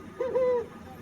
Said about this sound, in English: you might have just heard a regular owl hoot